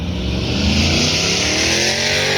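A pro touring truck with a new engine revs hard at an autocross event, a loud, close, continuous roar with rising and shifting pitch as it accelerates.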